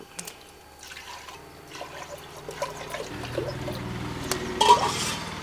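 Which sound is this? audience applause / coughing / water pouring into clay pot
water pouring into clay pot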